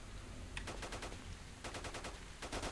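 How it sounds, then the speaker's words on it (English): Bursts of automatic gunfire in the S.T.A.L.K.E.R. video game (Shadow of Chernobyl, OGSE mod), two rapid volleys of sharp repeated shots over a steady low background rumble, moderately distant. "What are they shooting at?"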